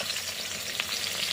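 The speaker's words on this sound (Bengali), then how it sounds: "কাতলা মাছ ভাজা" Catla fish sizzling in hot oil in a pan, a steady close crackle and hiss that holds evenly throughout with a small pop near the middle.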